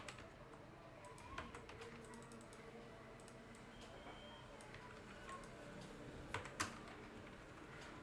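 Fingers tap out text on a computer keyboard in a quiet room, with soft, steady key clicks and a few louder keystrokes near the end, all at low level.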